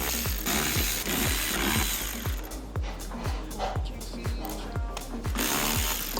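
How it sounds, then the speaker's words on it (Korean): Ratchet or power tool removing inner door panel bolts on a Genesis G80: rapid steady clicking with a regular pulsing beat throughout, close and fairly loud over a noisy background. "지금 눈에 보이는 인판넬 볼트를 전부 다 탈거를 하시면 됩니다"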